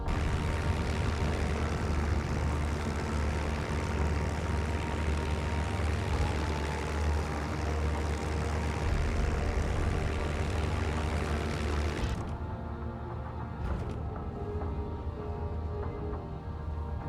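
A WW2 P-51 fighter's piston engine in the video game IL-2 Sturmovik, a loud steady propeller drone while landing that drops abruptly in brightness and level near the end as the throttle comes back.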